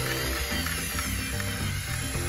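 A Dongcheng corded impact drill fitted with a screwdriver bit drives screws. Its motor gives a steady, close whirring drone with a gritty edge that holds for the whole stretch without pause.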